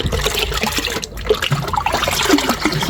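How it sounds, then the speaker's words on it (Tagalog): More water is poured into homemade liquid fertiliser, giving a steady, close, rushing and trickling splash that runs for the whole few seconds without a break. "tapos dinadagdagan ko po siya ng mas ibang tubig"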